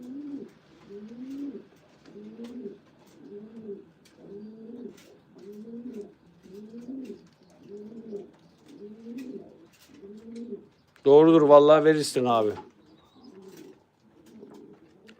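A pigeon coos in a steady repeating rhythm, close and clear, at a pigeon breeder's loft of 300 to 400 birds, briefly interrupted near the end by someone speaking before the cooing resumes.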